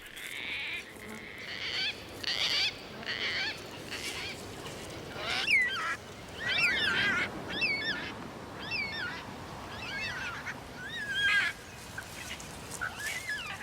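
Gang-gang cockatoos give a series of scratchy, creaking calls, several in a row at irregular intervals, fairly close against a quiet outdoor background, with no talking.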